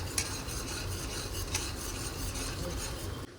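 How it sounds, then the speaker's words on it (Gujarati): Omelette masala being stirred into a bhaji fry mixture in a pan, a continuous scraping and rubbing with a faint sizzle and a few sharp utensil knocks, close up and without speech. "હવે એડ કરશું ઓમલેટ મસાલો થોડોક અને એને પ્રોપર રીતે મિક્સ કરશું."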